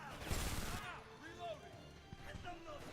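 Gunfire bursts crack out in a DOOM mod of the shooter game Homefront: The Revolution, loud at first and then sporadic under shouted in-game voices and the player talking.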